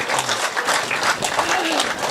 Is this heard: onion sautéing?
no